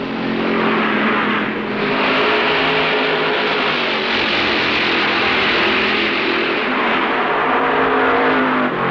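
Mid-1960s NASCAR stock cars race at Darlington during the Southern 500, engines roaring loudly and continuously at full throttle, with the pitch swelling as cars pass close by, no voices over the din.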